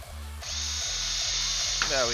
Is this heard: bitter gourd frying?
no